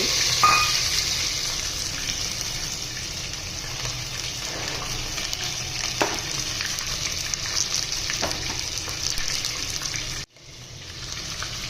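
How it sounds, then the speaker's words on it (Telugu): Onion, potato and green chillies fry in oil with a steady, close sizzle, broken by a few scraping stirs of the spoon, and the sizzle cuts out abruptly near the end before returning. "బంగాళదుంప, పచ్చిమిరకాయలు మొత్తం ఒకసారి తిప్పుకున్నాం ఫ్రెండ్స్."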